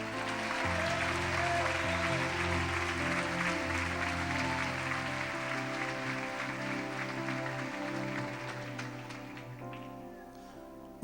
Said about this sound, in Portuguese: Aplauda o Senhor por essa.